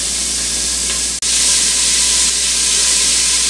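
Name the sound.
ground beef sautéing in an Instant Pot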